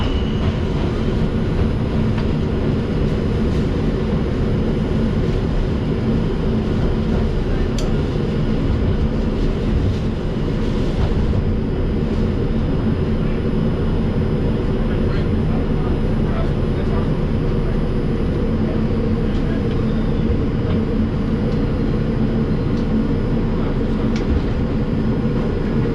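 An R142 subway train on the 5 line runs Bowling Green bound from 149th St–Grand Concourse, giving a loud continuous onboard rumble with steady wheel and motor roar throughout and no breaks.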